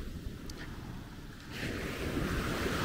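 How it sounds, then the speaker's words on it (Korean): Strong surf rolls in at Natai Beach in Khao Lak, Thailand, a broad windy wash that swells louder halfway through, with wind buffeting the microphone and no voices. "근데 파도가 조금 센 편이고요."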